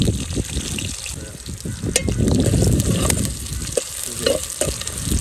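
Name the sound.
onions frying in oil for mutton curry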